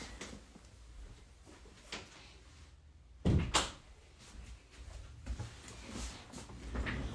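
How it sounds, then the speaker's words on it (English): A room door closed indoors with a single solid thunk midway, surrounded by quiet handling noises and faint rustling. "I'm gonna close my door really quick."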